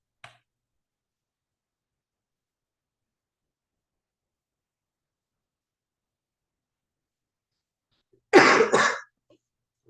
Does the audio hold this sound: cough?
yes